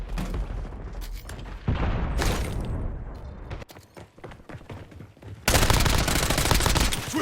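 Heavy Call of Duty firefight with loud, dense automatic gunfire and thudding impacts in overlapping bursts, easing briefly before a sustained roaring volley at the end.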